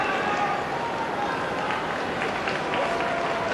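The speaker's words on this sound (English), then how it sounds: "gets a well-deserved round of applause from the fans here" Football crowd in a stadium applauding a substituted player, a steady wash of clapping and cheering from many fans, broad and sustained, with no clear breaks.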